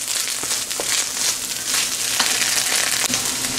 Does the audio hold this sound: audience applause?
no